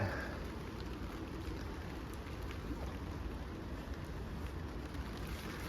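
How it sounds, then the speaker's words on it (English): Steady rain falls over an outdoor work area while glass is fitted to a 1970 Plymouth Duster, a dense broadband hiss that stays constant and fairly soft throughout with no voices. "A little more rain than we wanted."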